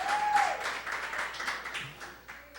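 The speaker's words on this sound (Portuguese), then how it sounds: "Você pode dar aquela linda salva de palmas." A church congregation claps together in steady, dense applause, a soft sustained tone ringing through the first half second before the clapping continues evenly to the end.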